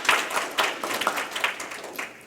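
An audience applauds the panelists at the close of an urban health seminar, a sparse patter of hand claps with distinct individual claps rising and falling over a couple of seconds, moderately loud and without talk.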